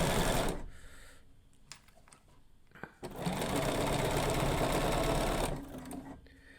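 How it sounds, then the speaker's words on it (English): A sewing machine stitches quilt binding in two runs: a short burst at the start, then a long steady whir of rapid stitching after a pause, ending in quiet. "I'm sewing, and when I get to the edge, you'll see"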